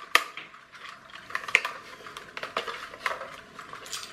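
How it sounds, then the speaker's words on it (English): Worn clockwork tin toy car with a stripped winding mechanism, clicking as it is wound back without tightening the spring; a close, irregular series of small sharp ratchety clicks and taps. "If I try and wind it back, it's not winding up the spring, it's just clicking."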